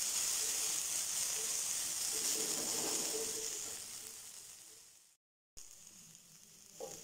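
Broad beans sautéing in a pan, with water sprinkled in now and then, give a bright steady hiss that slowly fades, cuts out briefly, then returns quieter.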